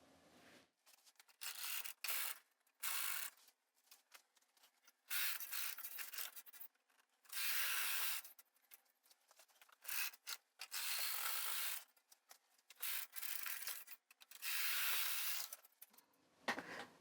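Brother 260 knitting machine carriage sliding back and forth across the bed while knitting stockinette rows, a series of steady rasping passes, each lasting about a second or two, with short quiet gaps between them.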